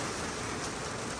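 Heavy rain pouring outside a house in Iyappanthangal, Chennai, as a brief, steady, even hiss of falling water with no voices.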